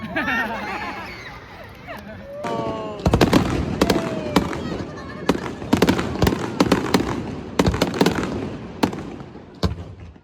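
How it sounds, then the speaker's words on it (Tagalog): Fireworks bursting over Darling Harbour in Sydney, a string of loud sharp bangs and crackles after a quieter start, with crowd chatter and voices mixed in throughout. "Kakatapos lang ng fireworks dito sa may Darling Harbor."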